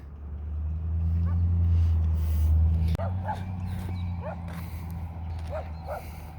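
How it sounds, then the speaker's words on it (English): A dog barks and yips in short bursts from a distance, several in a loose cluster, over a steady low drone hum, in Zapata, Texas. "I got this dog barking at me."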